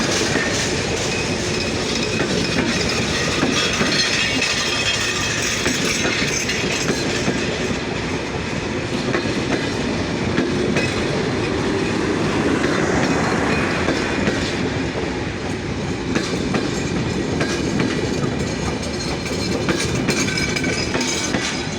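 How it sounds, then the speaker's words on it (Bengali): The Dhaka-bound Chilahati Express intercity 806, hauled by a locomotive, rolls into Saidpur station with a steady loud rumble, rhythmic clickety-clack of wagons and occasional wheel squeal. "চিলাহাটি এক্সপ্রেস ট্রেনটি বর্তমানে সৈয়দপুর ইন করলো।"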